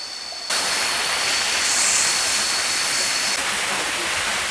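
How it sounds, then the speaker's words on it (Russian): A small waterfall about four meters high roars steadily as a dense, close, broadband rush that holds constant once it cuts in, with no voices over it. "Ну вот, добрались мы до этого водопада."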